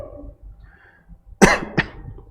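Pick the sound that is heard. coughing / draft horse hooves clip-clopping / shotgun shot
coughing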